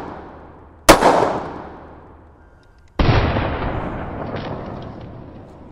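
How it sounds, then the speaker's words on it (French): A Smith & Wesson Performance Center 10mm Auto pistol fires two loud, close shots about two seconds apart, each with a sharp crack and a lingering echoing tail. "Donc on va essayer le 10 mm auto."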